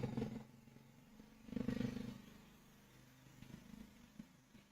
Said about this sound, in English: Sorry about the scooter noise.